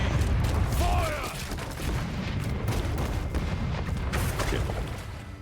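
Pirate ship cannons boom during a naval battle in Rogue Waters. Several heavy shots sound over a continuous low rumble, mixed with mechanical clatter and brief voices.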